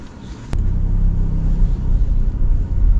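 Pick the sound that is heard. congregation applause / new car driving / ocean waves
new car driving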